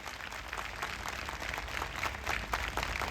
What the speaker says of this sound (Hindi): आइए प्रभु के लिए एक अच्छी ताली बजाएं